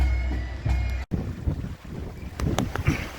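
A sailboat under full sail pushes through the water, with steady wind buffeting the microphone, waves slapping against the hull, and occasional splashes rising and falling close by.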